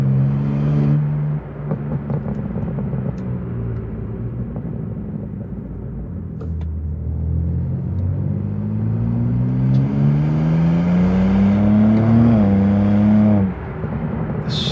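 A 2024 BMW M2 accelerating hard on the road, its engine note climbing steadily through the revs and dropping sharply at a gear change, loud and close throughout with no talking.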